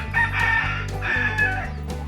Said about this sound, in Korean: 이 닭들이 겁이 많은 건지